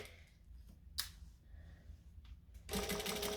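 A sewing machine stitches forward and back on a McCall's M6442 jacket, a short close burst of rapid mechanical whirring after a few soft clicks and handling sounds.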